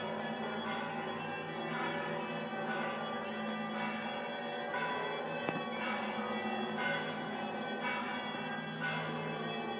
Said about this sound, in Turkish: Çan seslerini duyuyor musunuz?